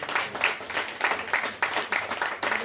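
An audience at a literary conference applauds the authors in a brief, moderate burst of scattered clapping, alone with no talk over it.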